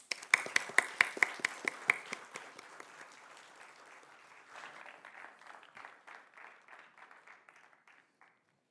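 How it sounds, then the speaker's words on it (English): Audience at a TEDx event applauds, the clapping loud and dense at first, then thinning into scattered, softer claps that taper off over several seconds. "Please join me in welcoming Mr. Anand Kumar Kadali with a resounding round of applause."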